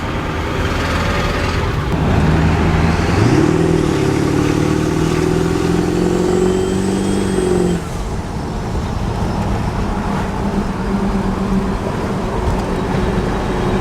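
A Ford OBS pickup with a 7.3 diesel accelerates on a drive to test turbo boost. The loud, steady engine drone carries a rising tone that builds for a few seconds and then drops off, with no voices.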